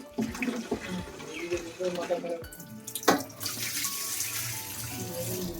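Tap water runs into a sink while something is washed under it, a steady hiss and splash with a few clatters, as people talk nearby.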